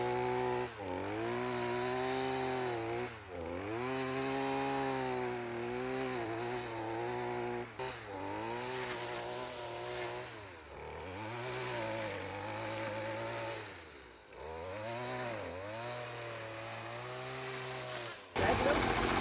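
A small string trimmer cuts through tall, overgrown grass, its two-stroke engine revving up and bogging down in repeated surges, close and loud, with brief pauses between passes.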